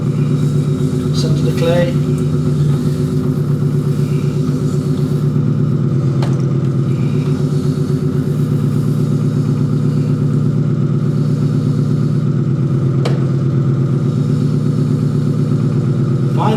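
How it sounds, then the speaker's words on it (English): An electric potter's wheel spins at full power with a steady, loud motor hum and a constant low rumble, while a voice speaks briefly over it. "Again, a small bit of clay on the wheel. Forward. Full power."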